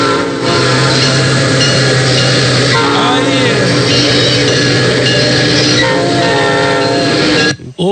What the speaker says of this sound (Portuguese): Rodolfo, coloca a vinhetinha aqui da nossa querida Ferrovia Brasileira.